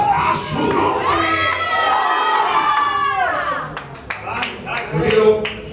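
A church congregation shouts and cheers loudly together throughout, a dense crowd roar of raised voices with some clapping, during an evangelist's service.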